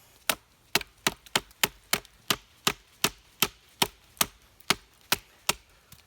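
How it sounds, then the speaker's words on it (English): An Alonzo Tracker knife chops in a hard use test, about fifteen sharp, close strikes falling steadily roughly every half second with no talking. "It chops."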